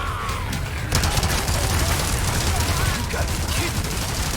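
The fully upgraded LE5 light machine gun in Resident Evil 4 Remake fires sustained automatic bursts, a loud, dense, unbroken rattle that swells about a second in and keeps going.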